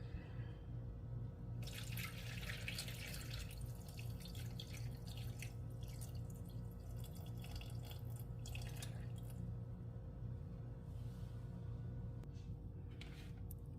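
Water runs faintly into a bowl on a kitchen scale for several seconds, about 370 grams for sourdough bread dough, with quiet splashing and trickling over a low hum.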